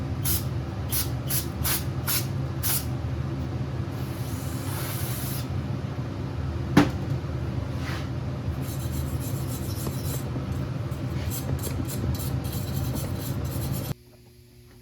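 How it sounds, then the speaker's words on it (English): Brake cleaner sprayed onto an aluminum Honda ATC250R engine case, a steady close hiss running for about fourteen seconds, broken by a few short clicks and one sharp tap before it cuts off. "Use brake clean, not acetone."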